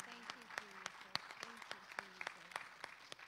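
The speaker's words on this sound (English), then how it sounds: "Just take a moment right now and just give God a hand clap" A small church congregation claps hands in an uneven patter of sharp claps, fairly close, while a voice calls out over the clapping.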